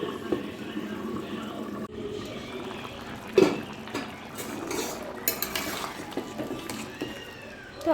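Jackfruit chicken curry with potatoes stirred in a pot, with a spoon scraping and knocking against the metal in soft, irregular clinks, one sharper clang, faint bubbling beneath, and close and fairly quiet overall.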